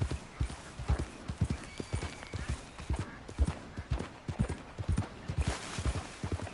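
Horse hooves clip-clopping at a steady galloping rhythm in Red Dead Redemption 2, crisp repeated beats running throughout with no talk over them.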